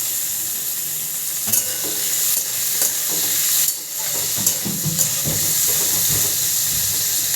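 Finely diced potatoes sizzle steadily in hot oil with onions in a pan, stirred now and then with soft scraping. The frying hiss is continuous and close, with no talking.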